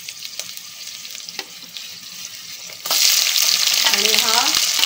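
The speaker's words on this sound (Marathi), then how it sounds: "आता हे सर्व मसाले आपण छान असे फ्राय करून घेऊ" Whole spices and green chillies frying in a pressure cooker for egg chicken biryani, a soft crackle that swells into a loud, dense sizzle partway through, with a few faint tonal squeaks near the end.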